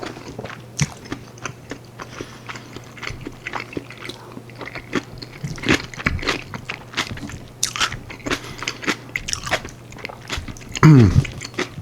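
Close, crunchy chewing and biting on a mouthful of spicy kimchi with tofu, with steady wet crunches and scrapes repeating throughout and no talking.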